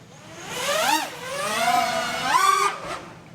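FPV drone motors spinning up for takeoff, a whirring pitch that rises, dips and rises again across a few seconds, close by and fairly quiet.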